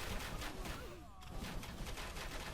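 Musket volleys in a battle simulator game as lines of British troops fire on Chinese forces, a steady wash of overlapping crackling shots with faint voices beneath.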